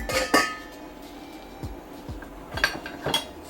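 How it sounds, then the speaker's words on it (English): A lid comes off a pot of stovetop stuffing with a metallic clank, followed by a few lighter clinks and taps of cookware, close by and sparse. "Then pop the lid off."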